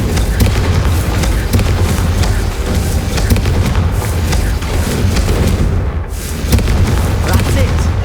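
Confringo fire spell explosions in the Hogwarts Legacy video game, a loud continuous barrage of booming blasts with rumbling low end, steady throughout, with a voice faintly present underneath.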